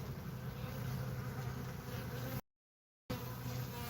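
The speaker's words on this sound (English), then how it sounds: "my bees are calm too" Honeybees buzzing around an open hive, a dense steady hum close by, broken by a brief total cutout before resuming, with no talking.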